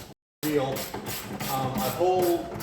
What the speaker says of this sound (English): Most times I'll hold the ratchet closer to the head.